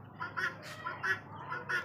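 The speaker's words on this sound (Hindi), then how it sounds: "ये देखें कैसी आवाज़ें निकाल ली है हमारी गिनी फॉल, ये देखें ये मेल की आवाज़ें होती हैं मेरे ख्याल से" Male guinea fowl call repeatedly at a farm, giving a steady run of harsh, raspy bursts about every third of a second, moderately faint and with no talk over them.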